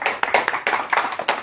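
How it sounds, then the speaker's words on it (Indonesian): A short burst of hand clapping from an audience at a religious lecture, brisk and fairly close, with no voices. "Baru tepuk tangan ya."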